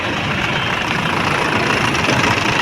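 Diesel engine of a 2011 Isuzu D-Max idling steadily, heard close up with a smooth, even broadband rumble and no talk.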